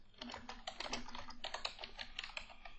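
Rapid, steady keystrokes on a computer keyboard, close and soft, forming a continuous patter of clicks while entering labels in a Looker Studio dashboard, with no voices.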